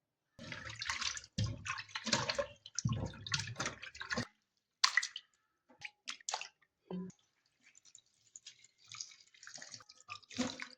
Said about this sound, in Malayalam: ചിക്കൻ നന്നായിട്ട് വാഷ് ചെയ്ത് മാറ്റാം